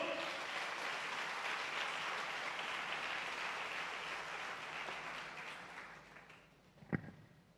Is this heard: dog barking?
no